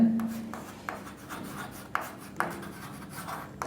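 Pen or marker writing out an equation during an electrostatics lesson on electric dipole potential, close scratchy rhythmic strokes with small taps, no voices.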